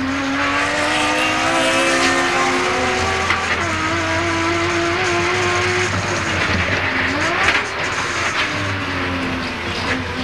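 Touring race cars from the 1989 Australian Touring Car Championship at Mallala circuit, engines roaring loud and continuous as they battle for position, pitch rising and falling through gear changes, with no voices present.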